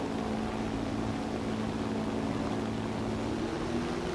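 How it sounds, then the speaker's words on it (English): Jet aircraft engine with afterburner engaged in the War Thunder video game, a dense, steady, loud roar with a low droning undertone holding even throughout, with no talking. "This can be achieved by using the afterburner. Accelerate the plane."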